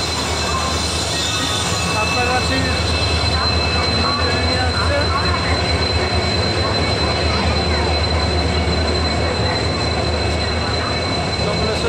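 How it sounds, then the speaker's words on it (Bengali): An express train enters a station platform with a loud, continuous rumble and a high metallic wheel squeal throughout, and voices are heard nearby. "ট্রেন ঢুকছে ডান দিকে"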